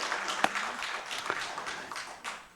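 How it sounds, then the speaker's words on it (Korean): A church congregation claps together during a Sunday service, a broad, steady wash of applause at moderate distance that fades gradually across the short stretch without any voices. "우리 하나님께 영광의 박수를 크게 올려드립니다."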